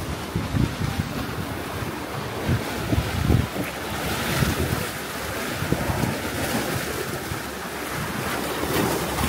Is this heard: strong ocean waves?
yes